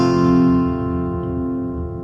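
A single F barre chord rings out on guitar, struck once and left to sustain and slowly decay, close and clear with no talk.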